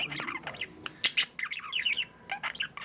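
A pet bird chirps indoors in quick bursts of high tweets and a few sharper squawks, close by and fairly clear, with no talking.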